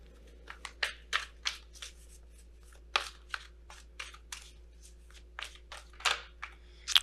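Wisdom of the Oracle cards are shuffled by hand, giving a quiet, irregular series of crisp riffles and slaps, each brief and close, separated by short pauses over a low background hum.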